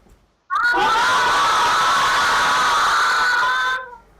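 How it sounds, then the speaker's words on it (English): A crowd of schoolchildren in classrooms cheering and shouting together in one loud, sustained burst lasting about three seconds before cutting off. "give us a wave and a cheer in your classrooms, children, if you're excited to learn all about chocolate today"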